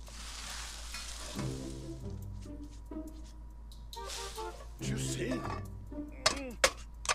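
Scrambled eggs and bacon sizzle and fry in a kitchen scene from The Sims 4, a steady frying hiss with a few stirring sounds and some sharp ticks near the end, while tonal game sounds play over it.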